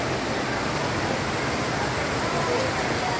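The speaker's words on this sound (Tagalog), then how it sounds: "Lakas po ng ulan." Dense, steady rush of heavy rain pouring down during a flood over a flooded oval, a continuous broadband hiss with no pauses or voices.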